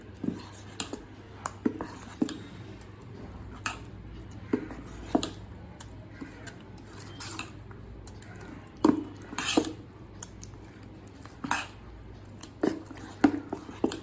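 Tomato dosa batter, with ground tomato paste and no added water, being mixed in a bowl: soft wet squelches and light scrapes and clinks of the spoon come in an irregular rhythm over a steady low hum, close and fairly quiet.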